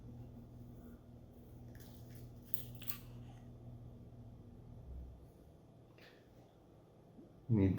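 Small scissors trim thread on a fly-tying hook for a peacock bass fly, giving a few quiet, close snips over a low steady hum, followed by a soft thump at the end.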